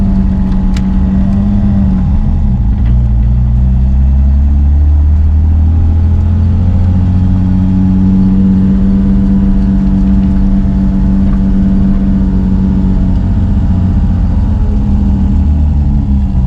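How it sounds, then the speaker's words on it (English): A car engine hums steadily while driving, loud and close with a low droning rumble and shifting tone, no voices. "Time to get used to driving the car again."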